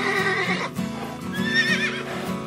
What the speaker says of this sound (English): Two domestic palominos fight each other to decide.